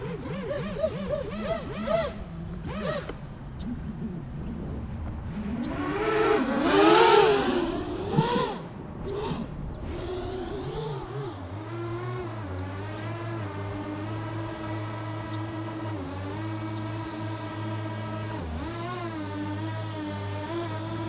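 A 9-inch, 2.2 kg quadcopter drone flies nearby with a buzzing motor whine that rises and falls in pitch as it maneuvers and swells in a burst of throttle before settling into a steadier, lower hum as it comes back.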